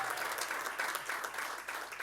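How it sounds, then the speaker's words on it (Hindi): Steady applause from a crowd at a press conference, dense and continuous clapping at moderate loudness. "एवरीवन जोरदार तालियां हो जाएं।"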